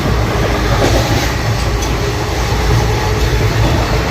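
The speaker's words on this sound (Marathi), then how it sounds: "आता दुसरी ट्रेन निघाली" A departing train rumbles loudly close by, with wheels rattling and clacking in a continuous, heavy roar.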